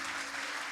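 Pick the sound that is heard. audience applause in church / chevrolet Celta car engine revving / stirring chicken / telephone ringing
audience applause in church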